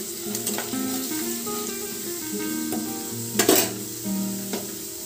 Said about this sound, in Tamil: அதையும் இதில் போட்டு வறுத்துக்கோங்க. லைட்டாக செவக்கிற மாதிரி வறுத்துக்கோங்க